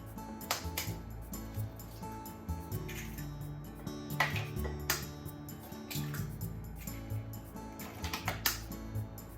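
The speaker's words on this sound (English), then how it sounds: "Crack the eggs in the bowl." Eggs are cracked into a bowl with a few sharp, close taps and clicks spread unevenly over several seconds against a quiet kitchen background.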